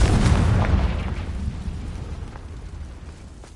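A Confringo blasting spell explodes in the Hogwarts Legacy video game, a loud close boom that bursts at once and then fades into a long rumbling decay.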